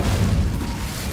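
An Incendio fire spell cast in Hogwarts Legacy bursts out as a loud, low whooshing boom that fades over about a second.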